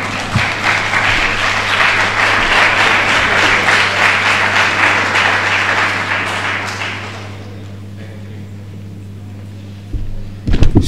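A symposium room full of people applauds loudly for several seconds, then the clapping tapers off into near quiet, with a few clunks at the end.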